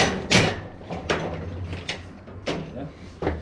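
A cheap folding metal scaffold is collapsed with its pins held down, giving a series of sharp metallic clanks and rattles spaced across a few seconds, close by.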